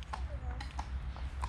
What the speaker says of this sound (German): Das ist tatsächlich ein Pferd.